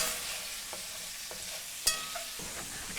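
Pasta and beets fry in a pan with a steady broad sizzle, broken by a few light scrapes and one sharp clink as the food is stirred.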